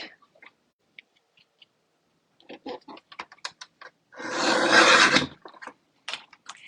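Paper is trimmed for a scrapbook layout: scattered small clicks and taps, then one rasping slide of about a second as the strip is cut, followed by a few more light handling sounds.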